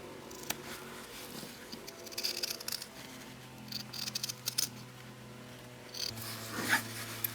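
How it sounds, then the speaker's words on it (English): Scissors cutting through folded fabric along traced lines, with soft, close snipping and rubbing of cloth in uneven bursts over a quiet background hum. "keep your fabric folded and then just go ahead and cut along the lines"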